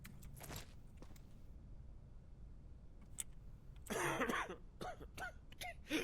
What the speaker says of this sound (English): he's got a cough